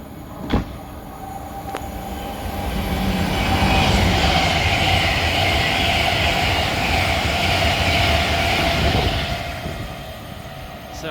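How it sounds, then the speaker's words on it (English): An Avanti West Coast Evero train bound for Holyhead rushes through Bletchley station on the West Coast Main Line, a loud sustained roar of wheels and rails that swells, holds for several seconds, then fades. "Passing through now, we're going to have an Avanti Evero,"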